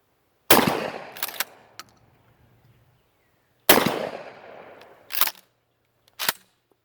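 An Ithaca 37 riot shotgun is fired twice outdoors, each loud close blast trailing off, with metallic pump-action clacks after each shot.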